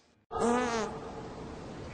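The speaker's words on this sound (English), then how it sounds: "What's the most heartwarming way to end this all? A fart." A single loud, buzzing, drawn-out fart bursts in abruptly after near-silence, then trails off into a lingering low rumble.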